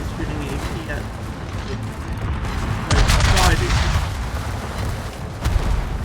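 Naval video game warship guns fire AP shells, heard as booming gunfire bursts that swell around the middle of the stretch. They come over continuous game background sound and someone talking throughout.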